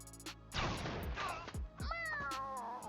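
A kitten creature in a turn-based combat video game meows when struck, a drawn-out cry over game effects and a swooshing hit sound, followed by a shorter second meow.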